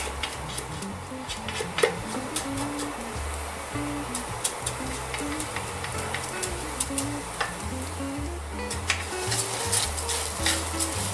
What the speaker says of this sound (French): je mets le riz et maintenant je vais faire ce qu'on appelle nacrer le riz. Donc nacrer le riz, on va l'enrober avec de la matière grasse